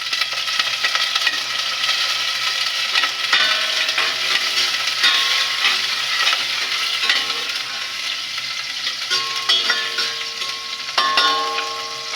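Onion, then garlic, sizzle in hot oil in a pan while being stirred, a dense steady crackle with occasional scrapes of the spoon, close and loud, with no talking.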